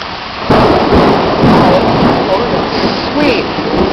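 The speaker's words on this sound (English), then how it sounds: "Thunderstorm after dinner." Thunderstorm on an evening after dinner: steady heavy rain hiss throughout with low rumbling thunder rolling in, loud and close, no voices clearly over it.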